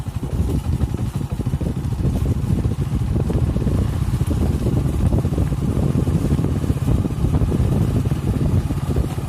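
A motorcycle being ridden home on a village road, a continuous loud engine drone mixed with wind buffeting the microphone, steady throughout with no talk.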